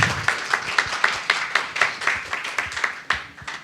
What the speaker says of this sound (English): So let's give an applause.